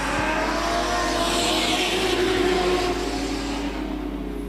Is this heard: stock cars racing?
yes